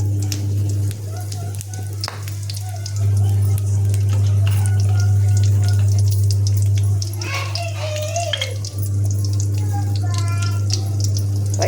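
Curry leaves, mustard seeds, cumin and dals sizzling hard in hot oil for a South Indian tempering, a steady loud crackle with spatter bursts, running under a voice.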